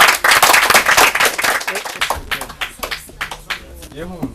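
Game show audience clapping for a contestant: a dense burst of applause for about two seconds, tapering into scattered claps as a voice starts talking over it.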